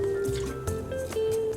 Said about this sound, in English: I'm going to mix that starch with 1/2 cup of half and half.